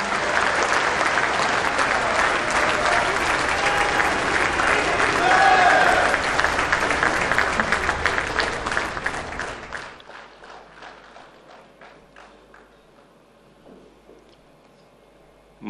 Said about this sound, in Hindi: माननीय प्रधानमंत्री श्री नरेंद्र मोदी जी को आइए उनके प्रेरणादायी संबोधन के लिए तालियों के साथ विनम्र निवेदन करते हैं.